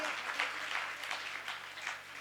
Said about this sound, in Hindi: आप एक बार तालियों से सम्मान बढ़ा दीजिए